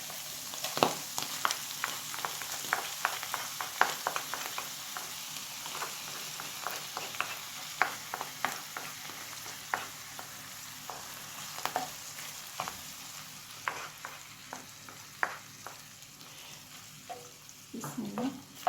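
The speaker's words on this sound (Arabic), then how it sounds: "صافي نخليو لاصوص ديالنا تغلى واحد شويه" A cream sauce with shrimp and button mushrooms bubbles in a pan, made with cooking cream. Soft, continuous sizzling and crackling is overlaid with frequent small clicks and scrapes of stirring, quiet and close, with no talk.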